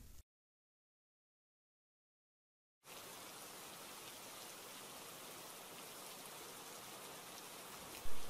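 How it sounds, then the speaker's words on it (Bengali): Steady rain falls as a cartoon sound effect, a soft continuous hiss of drops after a brief silence, ending in a short louder burst. "মা দেখো, বৃষ্টি পড়ছে।"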